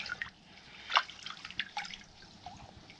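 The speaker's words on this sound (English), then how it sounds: "We're gonna rinse our fillets in the water." Lake trout fillets being rinsed in a pool of water out on the ice, with scattered drips and small splashes of water, near and fairly quiet, one brief louder slosh partway through.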